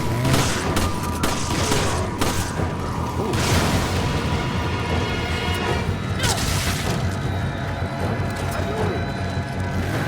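Explosions and gunfire burst through a Resident Evil 5 co-op gameplay fight, loud crashing blasts and rapid shots layered with clattering game effects.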